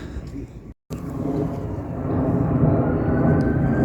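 Airliner passing low overhead on approach to Heathrow near Queens Road station in Peckham, a broad steady roar that swells and grows louder over a few seconds after a brief dropout.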